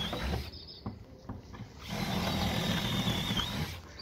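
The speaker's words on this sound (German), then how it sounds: "Jetzt bohre ich die anderen zwei Löcher." A drill bores holes into a traditional wooden board door, with a few light knocks first, then a steady, close drilling grind that runs for a couple of seconds before stopping.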